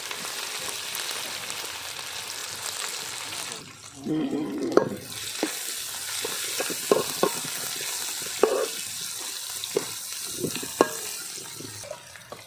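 Small shallots drop into hot oil and are stirred for beef kari dosai; a steady sizzle jumps louder as they go in, with scraping spoon strokes and clinks over the frying.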